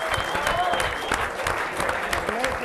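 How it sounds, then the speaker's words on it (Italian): Audience applause at an Italian television talk show about the Calcio Padova football club, steady broadband clapping that fills the whole stretch at moderate level, with a voice faintly audible underneath. "quindi l'applauso."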